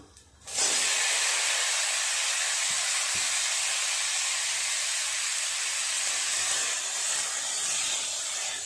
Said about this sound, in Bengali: একটু নেড়ে চেড়ে ডুমুর আর আলুটাকে ভেজে নেবো তেলের উপর